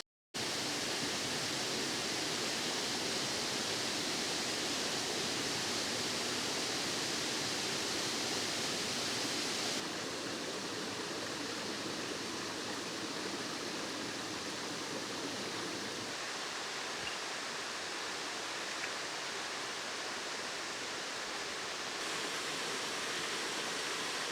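Waterfall at Blackwater Falls State Park in autumn, a steady broadband roar of falling water, loud and unbroken throughout with slight shifts in tone.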